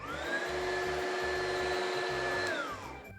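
A vacuum cleaner runs steadily nearby, held in place rather than moved, with a loud even motor whine and airflow that eases off near the end; no voices.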